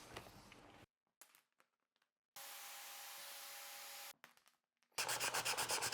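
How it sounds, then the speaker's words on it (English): Edges of cut mosaic tiles being sanded for a shower surround, giving steady broadband rasping bursts with gaps between passes, the last stretch a pulsing, rhythmic scrub. "Sand these up a little bit so that they look good against the Rondeck."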